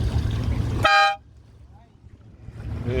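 A single loud boat horn blast during a boat race rings out for about a third of a second, cutting through steady background rumble and chatter, then fades to quiet.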